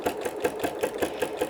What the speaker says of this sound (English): the first thing you want to do is you want to start sewing